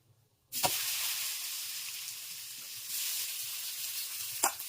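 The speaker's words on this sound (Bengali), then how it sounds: "পেঁয়াজটা ভালো করে লাল লাল করে দিয়ে দেবো।" Onions dropped into hot oil with bay leaf, dried chilli, cinnamon, cloves and cardamom for a country chicken curry, bursting into a loud, steady close sizzle after a moment of quiet, with a couple of sharp stir scrapes.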